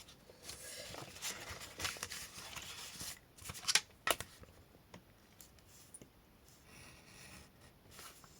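Scissors cutting paper for scrapbooking: soft, quiet snipping and rustling strokes at close range, with a few sharper clicks in the middle and no talking.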